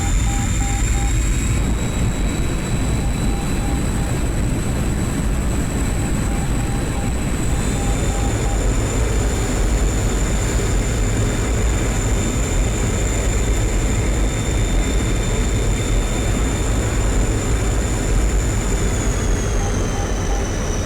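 A MiG-21 jet at Palmyra Airport in the DCS flight simulator gives a loud, steady engine roar with a sustained high whine that shifts pitch slightly partway through, continuous and close, with no talking.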